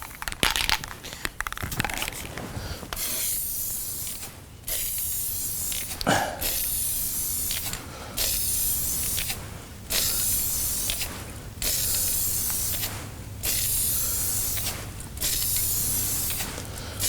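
Bursts of aerosol spray from a can of Rust-Oleum Satin Paint and Primer in one, coating restoration parts for a Mortal Kombat II arcade cabinet, roughly ten close hissing blasts separated by brief pauses, with a faint clatter near the start.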